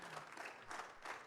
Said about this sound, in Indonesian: Kasih tepuk tangan dulu untuk Pak Anggito.